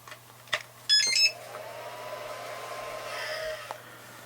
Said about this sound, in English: It's not, you know, super noisy, but it's a fan noise that you can hear all the time.